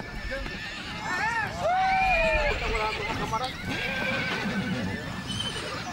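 Horses neigh and whinny repeatedly on a large cattle ranch in the Los Llanos region of Venezuela, loud and fairly close, with hooves clip-clopping under the calls and a voice talking over the scene.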